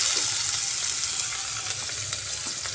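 Steady, close sizzling of a chopped medium onion frying in hot oil, a dense crackling hiss with occasional sharper pops and no talking.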